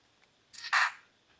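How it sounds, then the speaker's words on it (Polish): Sony Ericsson K508i phone camera shutter fired with the side key, a single short two-part electronic click-snap, close and alone against near silence. "Tutaj spróbujemy może bocznym klawiszem sobie cyknąć."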